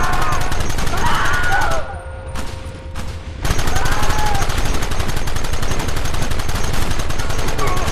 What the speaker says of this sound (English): Take them early! Gun them now!